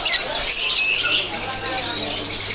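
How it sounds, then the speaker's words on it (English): Parrots squawk in harsh, overlapping, scratchy calls at close range in a busy Mumbai setting, with voices talking underneath. "Some more like parrots up there."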